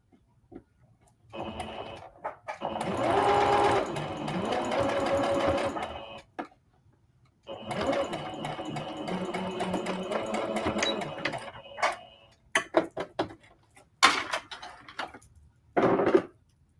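A sewing machine top-stitches palazzo pants made from a skirt, running in two long steady whirring stretches of several seconds each, then a few short stop-start bursts, close and clear.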